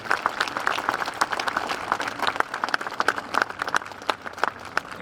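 A crowd at a Woburn Veterans Day parade applauds, with many hands clapping in a dense, uneven patter and sharper individual claps popping out, sustained for several seconds.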